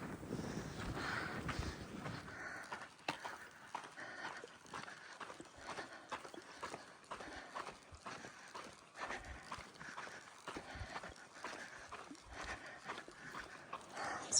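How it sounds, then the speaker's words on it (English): Gusty wind buffets the microphone on a Pacific Crest Trail section, a constant rough rumble with repeated pulsing gusts over nearly fifteen seconds and no talking. "It's a little windy, but over there it was crazy flipping windy"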